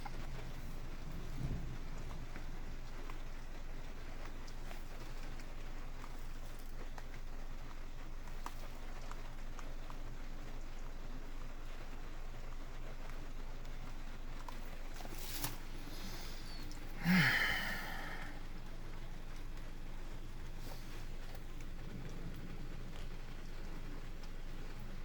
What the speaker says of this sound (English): This has been one hell of a rainstorm.